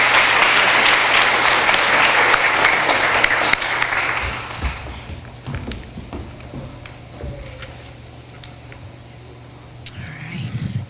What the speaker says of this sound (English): Can we just get one more round of applause for our essay winner?